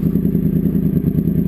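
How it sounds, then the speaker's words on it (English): A Yamaha R1 motorcycle idles through an aftermarket exhaust, a loud, close, steady low rumble with a rapid throbbing pulse and no voices. "the exhaust looks fantastic. It sounds great"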